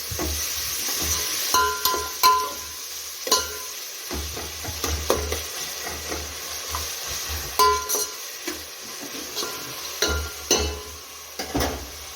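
Tomato and finely chopped mint being stirred in a hot pan for masala rice, a spoon scraping and clinking in irregular strokes over a gentle sizzle, close and clear.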